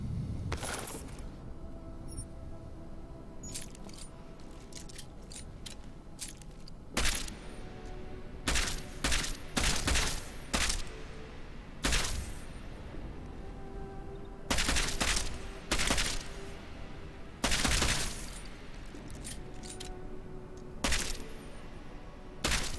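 Gunfire at a firing range in the video game Deus Ex: Mankind Divided: scattered loud shots and short bursts crack out over a steady low background hum.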